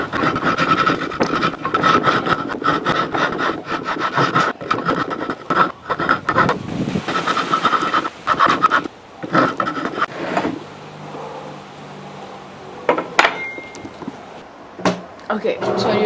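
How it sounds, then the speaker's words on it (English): A rasp files down the sides of a wooden slingshot fork cut from a big tree fork, making rough, repeated scraping strokes that are loud and close, with pauses and softer handling noises toward the end. "now I just have to rasp to the lines on all sides"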